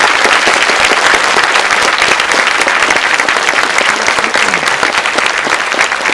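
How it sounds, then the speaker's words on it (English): Loud, dense applause from a festival audience for an actress at a FrightFest 2014 horror film Q&A, continuous and energetic throughout. "So if we could have a round of applause for Essie."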